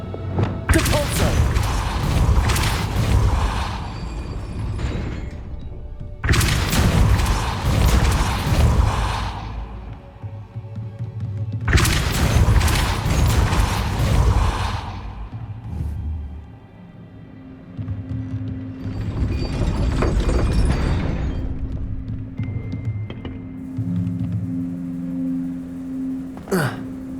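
Depulso force spells strike repeatedly in Hogwarts Legacy, four broad whooshing thuds spaced several seconds apart, loud and close, with a low hum lingering between and after them.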